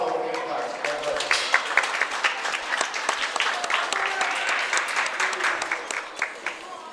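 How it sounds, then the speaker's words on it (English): A crowd at a junior livestock show applauds steadily, dense clapping filling the room for several seconds with some sharper individual claps standing out. "Let's give a round of applause for the new class."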